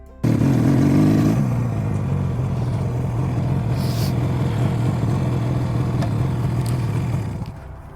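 A restored 50-year-old motorcycle, revived after sitting for 52 years, cruises steadily with a low, continuous engine drone after a brief louder rev at the start, close and loud, then easing off at the end.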